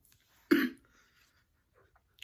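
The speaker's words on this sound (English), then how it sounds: "I have this stupid cough that I cannot get rid of." A single short cough sounds close by, then near silence follows with only a faint rustle at the end.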